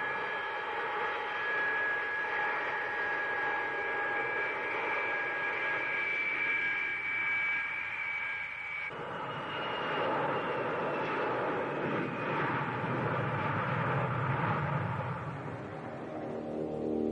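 Ilyushin Il-96 wide-body airliner jet engines roar steadily with a high whine on top, shifting midway to a broader rushing roar, loud and continuous.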